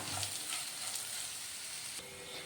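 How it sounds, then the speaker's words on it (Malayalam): Sliced onion and curry leaves sautéing in a pan for a pork curry give a steady close sizzle of frying, with light scraping stirs near the start, alone without any voices. "രണ്ട് തണ്ട് കറിവേപ്പിലയും കൂടെ ചേർത്ത് ഇതെല്ലാം കൂടെ നന്നായിട്ടൊന്ന് വഴറ്റിയെടുക്കണം"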